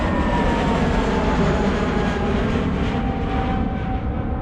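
Aircraft roars low over an Inner Mongolian village near Hohhot, a loud, sustained, close rumble with a steady drone filling the whole moment, no voices.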